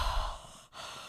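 A voice imitates a man's heavy, congested breathing while asleep, one loud rasping breath falling off to a short pause, then another beginning, close and alone.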